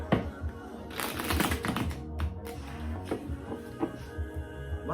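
Tarot cards are shuffled close up in a series of quick, crisp riffling and tapping bursts with brief pauses between them, fairly quiet with no talking.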